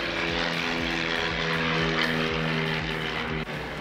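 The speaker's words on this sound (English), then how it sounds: "Airplane." An airplane passes overhead with a steady, loud propeller drone and a strong pulsing engine tone that holds for several seconds before dipping slightly.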